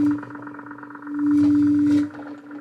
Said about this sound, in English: that's the sine wave